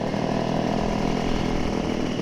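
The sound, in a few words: loud motorcycle exhaust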